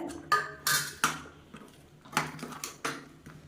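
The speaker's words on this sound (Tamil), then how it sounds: "இது நல்லா கலந்து விட்டுடலாம்" A spoon scrapes and clanks against a metal pot while jaggery is mixed into cooked rice for a sweet rice dish, giving a series of sharp, close knocks and scrapes at an uneven rhythm, with no talk.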